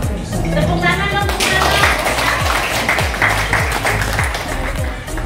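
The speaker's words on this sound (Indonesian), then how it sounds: "Tepuk tangan dong." Hands clap together from an audience at an Indonesian school counselors' gathering, a steady dense patter with faint voices mixed in.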